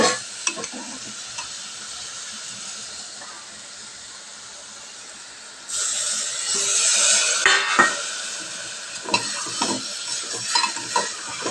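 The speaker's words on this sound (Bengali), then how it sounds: "মাংসটা দেখো এইভাবে কষে এসছে।" Chicken pieces for a curry are stirred and fried in a pan, with scraping spoon strokes and clinks at first, then a loud, steady sizzle that swells up midway and continues with scattered stirring clatter.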